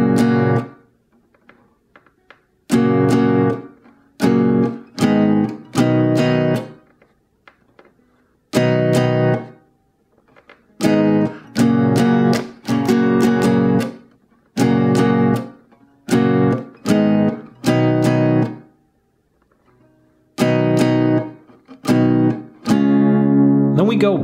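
Guitar chords of a song are strummed in short bursts and played close and loud, separated by brief pauses and mutes, with some chords carrying slight muted string touches.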